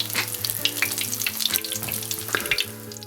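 A vegan protein patty fries in a hot pan, a close, dense sizzle with constant fine crackle and spitting pops, steady and loud throughout.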